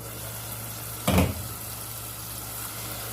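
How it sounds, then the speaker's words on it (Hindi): A spice masala roasting in a pan for stuffed tinda gives a steady low sizzle, with one brief louder burst of hissing and clatter near the middle, then settles back to a quiet continuous frying under no talk. "इसको कवर करेंगे 2 मिनट के लिए और मसाले को भूनेंगे"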